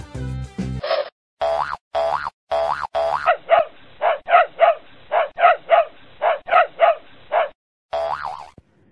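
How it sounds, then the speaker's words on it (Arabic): A string of short, evenly spaced dog barks, clear and up close, comes after a few springy boing sounds in a children's Arabic reading lesson. "كلب"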